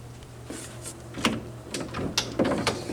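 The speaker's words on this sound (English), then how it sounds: "This door's a little hard to open and close." A stiff hotel room door at a SpringHill Suites in Peabody, Massachusetts, being worked open and shut, giving several knocks, clunks and latch clicks spread over a few seconds against a low room hum, close by and with no talking.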